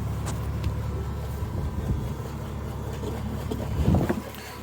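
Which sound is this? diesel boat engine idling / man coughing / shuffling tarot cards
diesel boat engine idling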